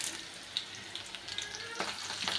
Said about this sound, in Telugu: కొంచెం పోపులు వేసుకోవాలి.